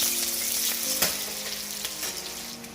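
Onions and green chilli fry in hot oil in a pan for a mixed vegetable and egg curry, giving a close, steady sizzle with a few sharp crackles and spatters.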